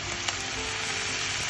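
Restaurant-style egg fried rice sizzling in a hot pan as a mix of one tablespoon soy sauce and two teaspoons vinegar goes in, a short, even hiss and crackle at close range with no talking.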